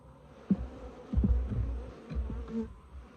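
Italian/Africanized hybrid honeybees buzz around a garden beehive, a low close hum with a few sharper passes and bumps near the microphone, no voices.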